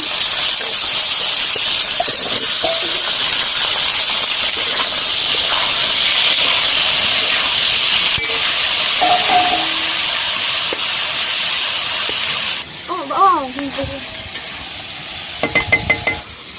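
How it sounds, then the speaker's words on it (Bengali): Potato and radish fry together in oil with a loud, continuous hissing sizzle that cuts off abruptly near the end. Brief wavering tones and a few clattering knocks follow. "আলু, তেল, মূলো একসঙ্গে ভেজে নেব।"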